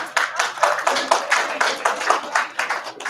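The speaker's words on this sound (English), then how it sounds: "Look at this crowd. Give yourself applause." Dense crowd applause with many hands clapping at once, loud and sustained, swelling in steady waves throughout.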